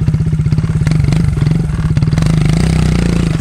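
Motorcycle engine rumbling steadily at close range while riding over rocky ground during a 4x4 off-road test, with a sustained low drone, pulsing revs and occasional clatter from the rough surface.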